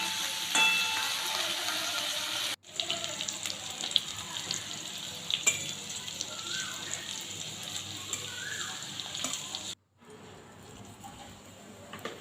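Prawns fry in a pan for prawn malaikari, giving a steady, close, dense sizzle that runs without a break except for two brief moments of silence.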